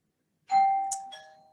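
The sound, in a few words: doorbell ringing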